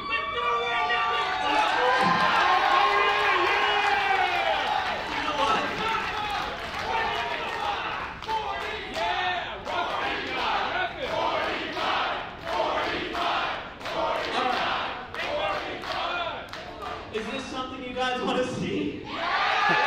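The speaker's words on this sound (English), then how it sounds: "Listen to this Rec Room crowd." Crowd noise from a virtual audience in the video game Rec Room, a steady roar of cheering and whooping voices that runs loud throughout, with people talking over it.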